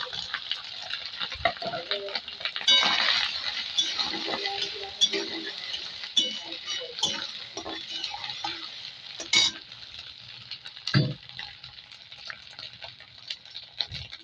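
Grated coconut fries with white cumin and spices in a pan for moong dal. A steady sizzle runs throughout, broken by stirring scrapes and utensil clinks, with someone talking now and then.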